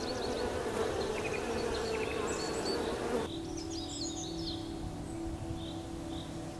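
Wasps buzzing close by in a steady droning hum that dips partway through, with faint bird chirps in the background and no speech.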